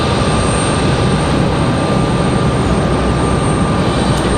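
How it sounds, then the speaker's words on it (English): A Boeing 737-800 arriving from LAX at Raleigh-Durham airport roars steadily overhead, a loud, continuous broadband jet engine noise with a faint high whine and no talking. "So this 737-800 coming in fresh from LAX"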